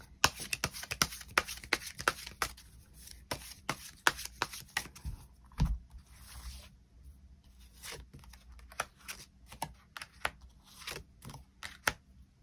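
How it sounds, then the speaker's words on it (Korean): Tarot cards are drawn and handled from a deck in a steady run of crisp, close clicks and soft flicks, some spaced out and some quick, with a brief rustle near the middle and no talking. "추가 카드 뽑아보도록 하겠습니다"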